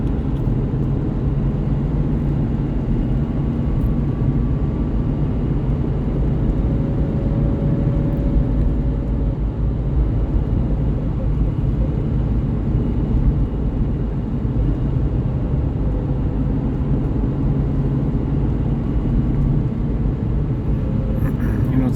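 A 1996 Corvette with the LT4 engine cruising on the road, its steady low engine drone and broadband road and tire noise continuing evenly and fairly loud throughout, with no talking over it.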